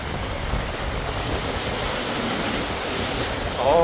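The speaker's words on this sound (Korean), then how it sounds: "파도 소리도 끝내줬네" Broadband roar of large ocean surf breaking steadily on the shore at Uljin, Korea, with gusty wind noise across the microphone throughout.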